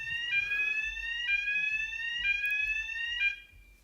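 An indoor fire alarm blares in loud, repeating electronic tones, about four long pulses in steady succession, before cutting off abruptly.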